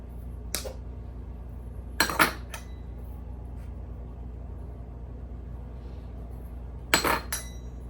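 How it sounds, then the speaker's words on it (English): A spoon clinks and scrapes against a bowl while a chickpea snack mixture is stirred: a few short, sharp metallic taps spaced seconds apart over a quiet room hum, fairly close and not loud. "then we're gonna stir it again"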